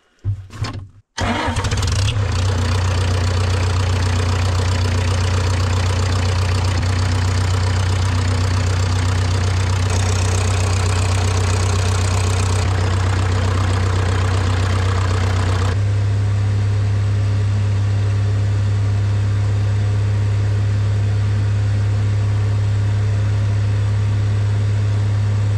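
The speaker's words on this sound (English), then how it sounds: "Maybe I need to start the engine." A Bobcat 751 skid steer's engine cranks briefly, catches and settles into a loud, steady, rough idle with a deep droning rumble, close by and continuous, with no talking.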